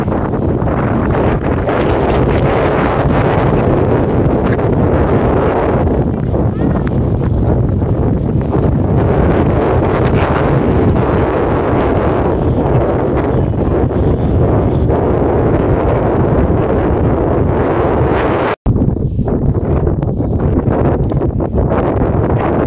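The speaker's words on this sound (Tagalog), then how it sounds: "Lakas ng hangin." Strong, steady wind on a hilltop buffeting the microphone with a constant low roar and rustle, loud and unbroken apart from one brief dropout near the end.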